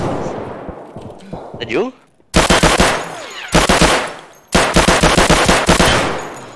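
Bursts of automatic gunfire in a first-person shooter video game crackle loudly in rapid repeated volleys with short pauses between, while players shout and talk over the shooting.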